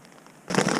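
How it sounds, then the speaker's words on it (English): Hail suddenly starts pelting a tent, a dense crackling patter that bursts in from near silence and keeps going loud and close. "It's hailing!"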